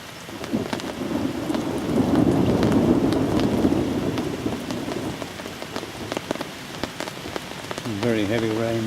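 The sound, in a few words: thunder rumbling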